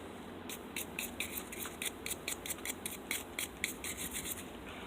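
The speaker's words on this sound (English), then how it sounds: "Another reason why I'm wire brushing it is because I don't have my Dremel out here with me." Hand wire brush scraping a metal axle spacer, a quick series of about fifteen rhythmic raspy strokes, fairly close and moderately quiet, with no talking.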